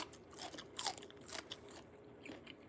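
Cooked green beans are being bitten and chewed in close, quiet crunches, several soft irregular bites over a couple of seconds with no talking.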